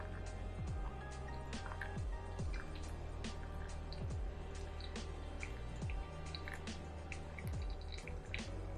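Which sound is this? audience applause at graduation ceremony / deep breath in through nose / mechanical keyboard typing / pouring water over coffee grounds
pouring water over coffee grounds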